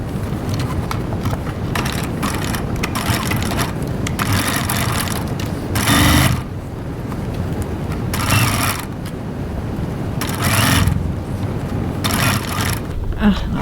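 A domestic sewing machine stitches a 1 cm (3/8 inch) seam at a 2.4 stitch length, running in bursts of steady mechanical chatter with brief louder surges and pauses between runs.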